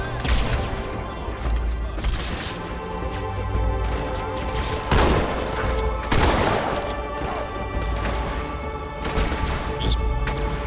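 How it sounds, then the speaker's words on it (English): Shotgun blasts and gunfire from a Halo 2 campaign mission crack through constant game music and effects, with a few sharp, heavy bursts standing out midway. "Trying to shoot a shotgun like long range."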